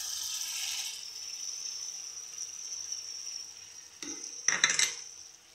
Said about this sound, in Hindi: अब हम इसमें नमक डालेंगे, ये हम इसमें पनीर डालेंगे, ये 2 चम्मच मलाई डालेंगे